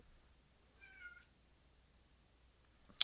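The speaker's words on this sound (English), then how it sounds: "that's my cats, so that's not me making chirps" A pet cat lets out a single faint, brief meow far in the background of a quiet room, followed by a sharp click near the end.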